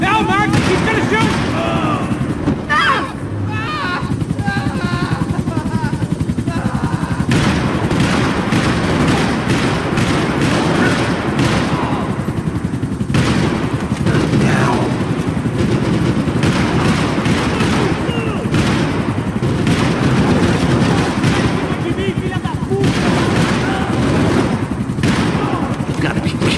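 Sustained gunfire in Max Payne 3, dense rapid shots and bursts with heavy thuds and booms layered over game music and shouting voices throughout.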